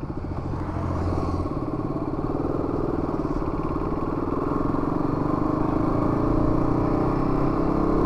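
An RC250 motorcycle engine runs steadily at idle with a rough, throbbing pulse and light mechanical clatter, loud and close throughout with no talk.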